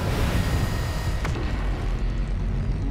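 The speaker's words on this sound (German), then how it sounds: "Da ist was explodiert." An explosion goes off in the space-factory video game Krastorio, a dense low rumbling blast with a sharp crack near the middle, then a lingering roar that stays loud throughout.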